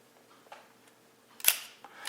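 A single quiet, crisp mechanical click of a leaf shutter firing at 1/60th second on a Yashica Lynx-14 35mm film rangefinder camera, with a few faint handling clicks around it in an otherwise hushed space.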